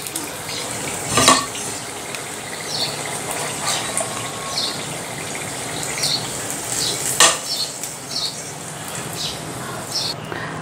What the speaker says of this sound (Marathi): आणि अशाच पद्धतीने आपण हे बाकीचे वडे सुद्धा तळून घेऊयात.